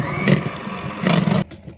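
An electric hand mixer whisking egg whites with stevia whirs and buzzes steadily, surging louder twice before cutting off abruptly into near silence.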